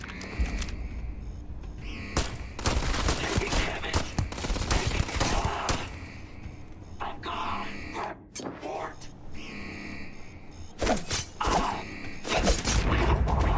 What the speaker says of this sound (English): oh, who's shooting? Oh, they're over here.